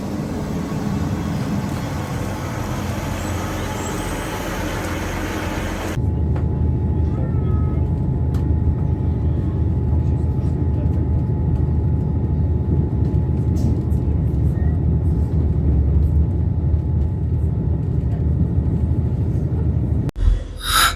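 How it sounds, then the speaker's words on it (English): Passenger train interior en route from Leeds to Blackpool in winter: a constant low rumble and hum of the carriage, a sudden shift in tone early on, then steady running noise with faint clicks and a brief knock at the end. "I am currently sat on the train on the way to Blackpool."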